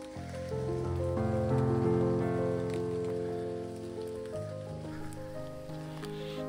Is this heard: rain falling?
yes